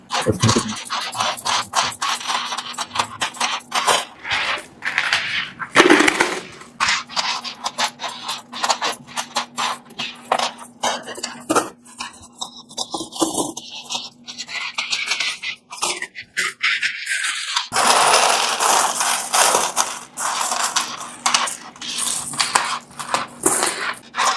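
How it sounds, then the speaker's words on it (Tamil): Heaps of Sri Lankan ten rupee coins are poured and counted, a dense, continuous metallic clinking and scraping that rises and falls in bursts, with no voices. "எல்லாமே இலங்கையினுடைய நாணயங்கள் பத்து ரூபாய் நாணய குட்டிகள்"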